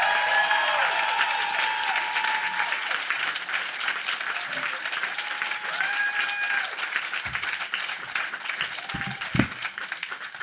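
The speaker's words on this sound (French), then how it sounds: "beaucoup de bruit. Vos mains ensemble pour Dominique Tourangeau" A comedy show crowd claps and cheers to welcome a comedian to the stage, loud sustained applause that gradually thins as music tones swell and a voice speaks over it near the end.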